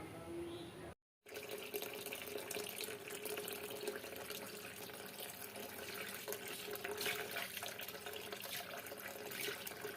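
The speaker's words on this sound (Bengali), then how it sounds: "কাটা বাছা করে খুব সুন্দর করে ধুয়ে নিলাম।" Leafy amaranth greens washed in water at a sink, a steady splashing and trickling wash after a brief silent gap near the start, fairly faint and continuous with no talking.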